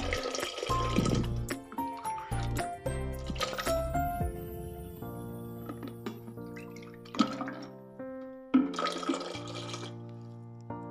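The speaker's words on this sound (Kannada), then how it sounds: "ಅಷ್ಟು ನೀರನ್ನು ಸೇರಿಸ್ತೀನಿ." Water splashes and gurgles into a cooking pot in a few separate pours, heard over a tonal music background.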